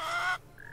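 A brief chicken cluck from the farm in the bakery game Lemon Cake, a single short squawky call that cuts off quickly, followed by a faint thin tone, fairly close and with no talk.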